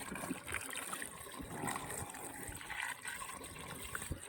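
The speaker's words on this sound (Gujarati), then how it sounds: "પંપમાં પાણી ભરાય" Steady trickling and splashing water runs continuously as it fills a sprayer pump tank, with a faint murmur in the background.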